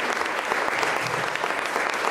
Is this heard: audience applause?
yes